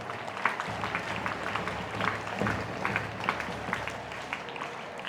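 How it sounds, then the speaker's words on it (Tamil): An audience at a school Christmas celebration applauds the student performers, with scattered, uneven clapping at moderate volume, some louder individual claps standing out over a low background hum. "இங்கே பெர்ஃபார்ம் பண்ண எல்லாருக்கும் கைத்தட்டி பாராட்டும்"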